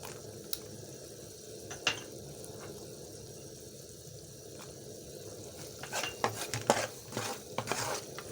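Dry fruits roasting in a pan of browned flour for aata halwa, a faint sizzle under a spoon stirring and scraping, the scraping growing busier and louder toward the end, no voices.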